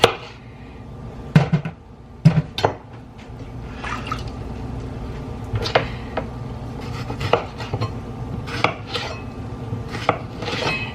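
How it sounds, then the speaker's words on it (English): Fresh tomatoes being chopped for tomato sauce, with a knife knocking against a board in irregular bursts of sharp taps, plus occasional clinks of bowls and pans in a quiet kitchen. "We're going to chop these up, put them in there, get them cooking."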